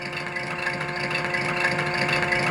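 A model engine's built-in sound unit plays a steady, loud idling engine hum with a mid-pitched drone and slight vibration, continuous and close throughout.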